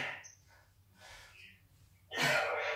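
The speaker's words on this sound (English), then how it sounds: "sharp, heavy breathing there" Sharp, heavy breathing after kung fu exercise: a few soft, irregular breaths, then a louder rushing gasp at the end, close to the microphone.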